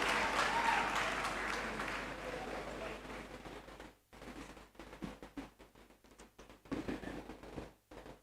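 Audience applause at a university graduation congregation ceremony in a great hall, dense clapping at first that gradually thins and fades to scattered claps, with some voices murmuring underneath.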